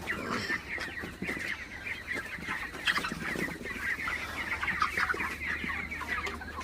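Broiler chickens cluck and chatter steadily inside a poultry shed during hot weather, a dense overlapping flock noise at moderate distance with no speech.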